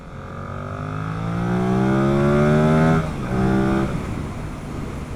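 A Yamaha MT-07 motorcycle engine revs up with a rising airbox growl, then drops briefly and picks up again in a second short rev before settling back. The engine is loud and close, with no talking.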